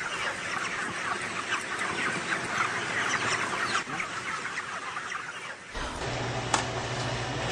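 Chickens raised on a farm cluck and squawk in a crowded chorus of many birds, busy and continuous, shifting near the end to a lower-pitched hum beneath a few scattered calls.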